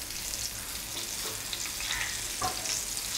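Oil sizzles and crackles steadily as lady fish fries, with a few brighter pops and spits over a dense hiss.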